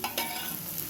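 Chili powder masala frying on low heat for an egg fry, a dense, even sizzle heard close up with a couple of brief stirring scrapes at the start.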